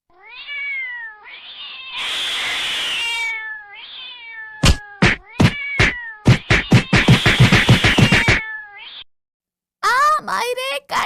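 A cat meows and yowls in a series of loud, drawn-out cries, broken by sharp bursts and a brief pause, with a voice mixed in.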